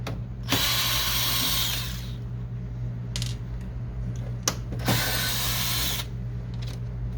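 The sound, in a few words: screws being removed from HP Officejet 6500 printer faceplate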